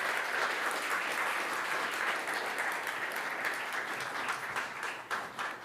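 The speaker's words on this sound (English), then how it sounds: "So a big round of applause and a big thank you from the conference." Sustained applause from a large conference audience after a talk, steady dense clapping throughout with a slight swell and flutter near the end.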